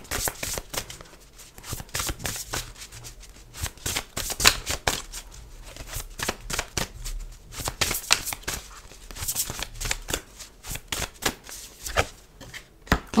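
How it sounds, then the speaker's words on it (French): Tarot cards are shuffled continuously in dense, rapid riffling and slapping bursts that carry on steadily throughout, close up and fairly loud, with no voices heard. "Je vais prendre une carte pour voir un conseil en plus"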